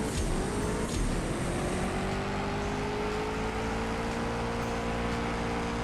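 A race car in the CSR2 Racing mobile game accelerates hard with nitrous through its gears, a loud, dense engine roar with rising pitch sweeps and shift breaks, steady throughout.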